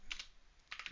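Fingers tap on a computer keyboard, giving two quick, faint clusters of keystroke clicks separated by a brief pause.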